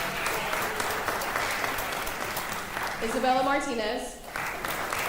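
An audience at a school board meeting applauds warmly for student dance award winners, with steady close clapping throughout while a voice reads out names over it.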